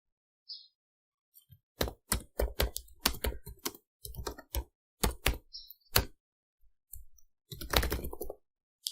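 Keystrokes tapped out on a computer keyboard in uneven bursts and short pauses, close and fairly crisp, with no voices over it.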